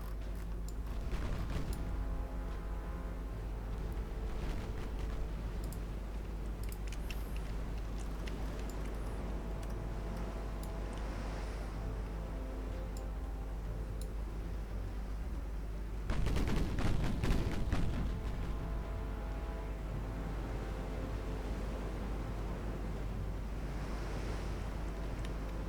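Naval artillery fire during a fleet battle in Ultimate Admiral Dreadnoughts, distant booming salvos over steady wind and ocean-wave ambience, with a heavier burst of gunfire partway through.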